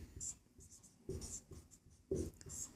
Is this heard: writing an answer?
yes